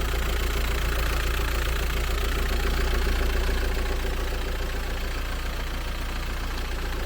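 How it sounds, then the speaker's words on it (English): A Volkswagen T5 van's 1.9 TDI PD diesel engine idles steadily, a loud, continuous low rumble with a fine knocking clatter, heard close and alone. "She runs alright. The usual PD sound."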